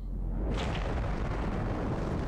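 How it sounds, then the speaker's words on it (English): Cannon fire booms in a video game battle, a loud sustained rumbling explosion that swells about half a second in and keeps roaring with heavy low-end energy throughout. "What's that sound? It's the cannons!"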